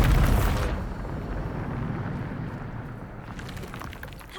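A Bombarda spell blast in Hogwarts Legacy bursts loudly at the start, then a long rumbling boom trails off and fades with no talk.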